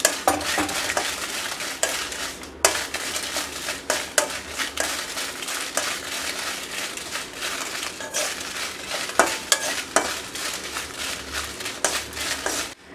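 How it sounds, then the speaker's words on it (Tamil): Dried red chillies dry-roasting in a pan for homemade idli podi make repeated scraping and rattling stirs with light crackle, close and irregular, with no talk. "இப்போ வந்து வத்தல் அதே மாதிரி வறுத்து எடுத்து வச்சுக்க போகிறேன்"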